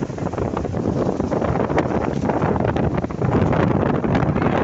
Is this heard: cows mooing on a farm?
no